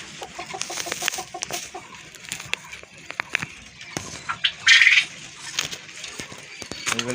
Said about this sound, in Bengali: কোয়েল পাখির খামার।